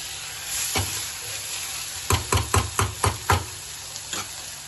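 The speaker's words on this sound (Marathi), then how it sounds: "तेलात परतून घ्यायचं चना" Green chickpeas sautéing in oil with masala gravy: a steady close sizzle, broken midway by a quick series of six scraping stirring strokes.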